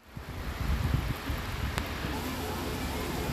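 Heavy rain pours steadily in Telangana, drenching roads where maize and paddy were spread to dry, making a continuous dense hiss that holds at a fairly even level throughout.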